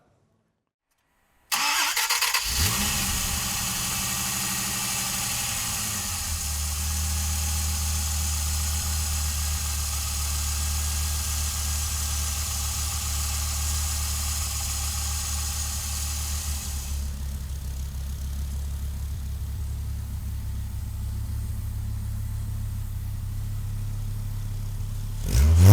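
A 1993 Dodge Viper V10 cranks and fires after a moment of silence, then settles into a deep, loud, steady idle that smooths out and quiets slightly partway through.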